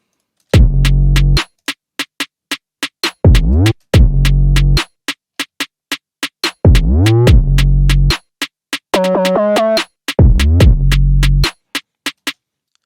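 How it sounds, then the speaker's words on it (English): A drill beat plays as a full drum pattern: deep booming 808 bass hits and sliding bass notes lock with a crisp, rapid hi-hat ticking and snare hits, a steady loud loop with no voices. "And together the drums sound like this."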